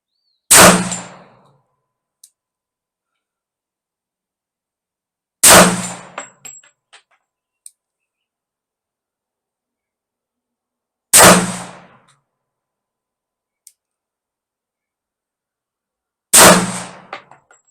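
Four loud Ruger American rifle shots fired at a target, spaced about five seconds apart, each a sharp crack with a short decaying echo, with faint clinks between shots and no talking.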